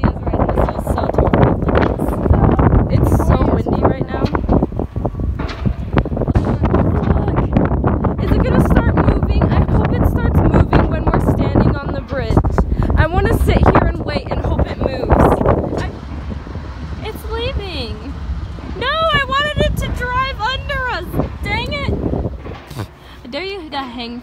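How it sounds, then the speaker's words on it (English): Strong wind gusts buffet the microphone high atop a tall tower of roughly 36 feet, a loud continuous rush that runs under people talking throughout. "I don't think anyone realizes how windy it actually is right now."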